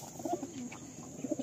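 Pigeons cooing softly in a loft of flying pigeons kept for sale, low throaty coos in short rounded bursts at the start and end, a few nearby birds against faint background noise.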